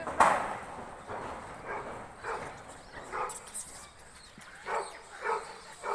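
A dog barks during an outdoor monkey disturbance, giving a series of short, sharp barks and yips at moderate distance over noisy background ambience.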